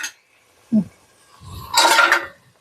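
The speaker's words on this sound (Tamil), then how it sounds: "ப்ரான் மூடி வச்சுட்டு வேக வச்சிடலாம்" A metal lid set down on a pan of prawn pepper curry, one low knock followed by a brighter clinking clatter, close and alone.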